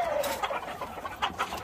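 A rooster clucks in a short series of close, fairly loud calls with no one talking.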